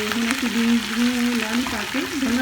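Potatoes and green beans fry in a pan with a loud, close sizzle under a steady tonal hum, as stirring shifts the pieces around.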